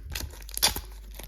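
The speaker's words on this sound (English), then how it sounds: "Let's use the scissors again." Scissors cutting into card mail packaging for Magic: The Gathering cards, heard as a short close tearing crunch with a sharp snip near the middle.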